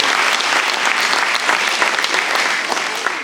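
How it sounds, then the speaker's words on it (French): A theatre audience at an apprentices' stage show applauds in honour of a late colleague: dense, sustained clapping that fills the hall evenly for several seconds, with no voices over it. "On peut l'applaudir."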